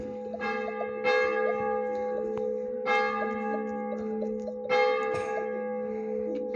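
A church bell rings out in repeated strong strikes, roughly every two seconds, each leaving a long ringing decay that overlaps the next, with no voices over it.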